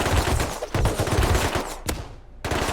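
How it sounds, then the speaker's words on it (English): A Rust game fight bursts with loud rapid gunfire and sharp blasts around a flashbang grenade detonation, dense cracks broken by short gaps. "Okay, let's flashbang."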